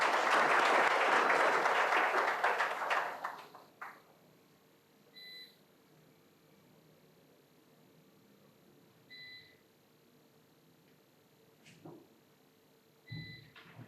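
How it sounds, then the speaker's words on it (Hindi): An audience claps loudly to welcome a speaker at a career counselling session, dense applause that fades out after about four seconds, followed by quiet room tone and a few faint electronic beeps. "तालियों के साथ"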